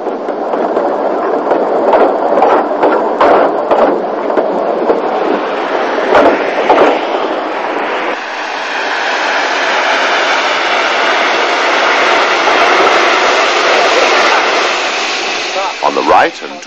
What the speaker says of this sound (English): The locomotive at the rear had assisted the train all the way from Port Erin.